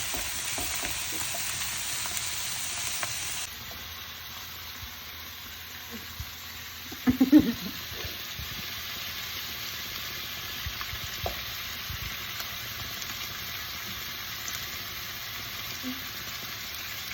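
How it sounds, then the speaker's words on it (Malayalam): Mussels fry in hot oil with a steady, soft sizzle and crackle, faint and close, broken by a brief clatter of stirring midway, with almost no talk. "നമ്മുടെ കല്ലുമ്മക്കായ എണ്ണയിലോട്ട്, ചൂടായ എണ്ണയിലോട്ട് ഇട്ട് കൊടുത്തു"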